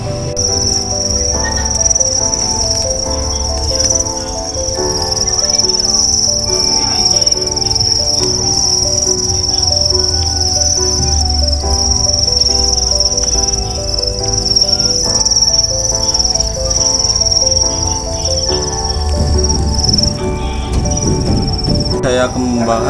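Crickets on a cricket farm chirp in a dense, continuous, loud high trill, with many insects overlapping steadily throughout, while a voice talks faintly beneath.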